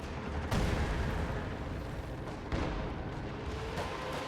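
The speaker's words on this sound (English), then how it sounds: "IL-2 strafe clears out one of the packs" An IL-2 aircraft makes a strafing run in a Company of Heroes 2 battle: a dense, continuous roar of rapid gunfire and explosions fills the clip at high loudness. Two sharper bursts stand out, one near the start and one midway through.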